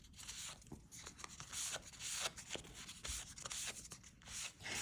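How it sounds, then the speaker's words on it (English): Faint, quick rubbing and wiping strokes on the inked edges of a tarot deck, a soft papery scrape repeated in an irregular rhythm, close and quiet. "it's really important to wipe off the excess so that you don't have bleed over"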